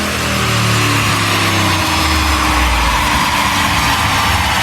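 A rebuilt LS7 7.0L V8 running boost on E85 in a Commodore on a dyno, roaring loud and steady with its pitch sweeping as it revs, with no talk.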